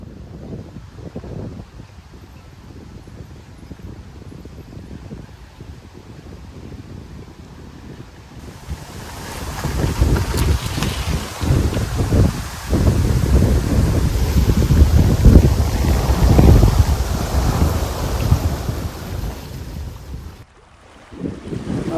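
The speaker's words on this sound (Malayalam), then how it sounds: "ഇന്ന് ഭയങ്കര കാറ്റ്." Strong wind blowing outdoors during an evening outing with friends, at first a moderate buffeting, then a loud, roaring rumble of gusts battering the microphone for over ten seconds before easing briefly.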